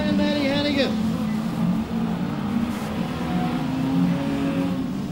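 Race cars, Ford, Holden and Sigma touring cars, roar past along the main straight at Archerfield circuit, a steady loud engine drone with a rising whine early on, under continuous race commentary.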